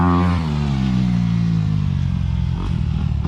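A motocross bike on a dirt track holds a loud, steady, rasping engine rev close by, with a brief dip and a few clattering bursts near the end, and no voices.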